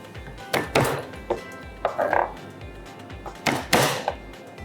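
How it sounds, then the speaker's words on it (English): Several dull, irregular thumps and crushing knocks on a hard surface, close by and moderately quiet, as garlic is pressed and mashed. "I will mash the garlic so that I will get out some of the flavor"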